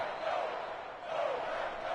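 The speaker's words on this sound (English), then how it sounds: "And the home crowd applauding." A home crowd in a video game basketball match roars and applauds in a broad, steady wash of noise that swells twice, heard at a distance with no nearby voice.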